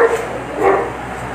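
Dogs barking in a Philippine setting, a loud bark or yip near the start and another around the middle over a steady background hum, with no talk.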